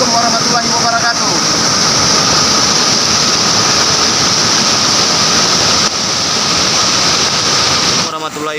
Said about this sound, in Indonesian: air terjun Jambur Latong